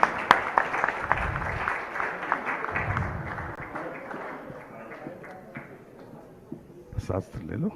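An audience at a spiritual discourse gives a burst of clapping, loudest at the start and gradually thinning and fading over several seconds before a few scattered claps near the end.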